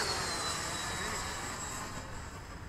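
A Freewing MiG-21 radio-controlled model jet comes in to land outdoors, its ducted-fan engine giving a loud, steady whine that slowly fades as the aircraft descends.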